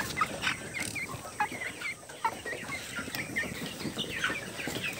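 Several chickens cluck and chatter on a poultry farm in the dim early morning. Short, overlapping calls repeat at moderate distance over a faint background hum.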